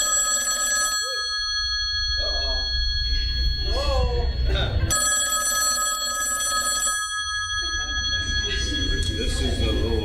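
Telephone ringing in a church sermon setting: a bright electronic ring sounds in repeated bursts separated by short gaps, loud and close, with a voice talking between and over the rings.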